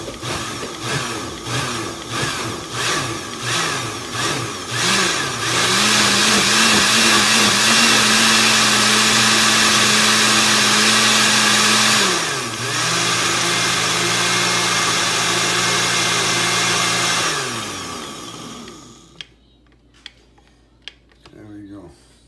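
A kitchen blender pulses an Asian marinade: a series of short motor bursts, then a loud sustained whirring run with a pitch shift partway through before it cuts off, followed by a few faint clicks.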